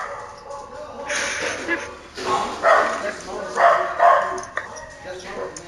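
Several short barks and yips from dogs come in uneven bursts close by, tangled with a voice speaking.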